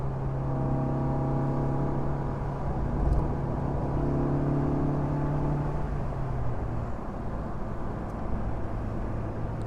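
A 1994 Mazda Miata engine revs steadily while the car is driven, a continuous loud drone with harmonic tones that climb then fade into broadband road and wind rumble, no talk.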